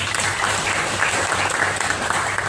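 A church congregation applauds together in steady, dense clapping that fills the whole moment, close and sustained without a break.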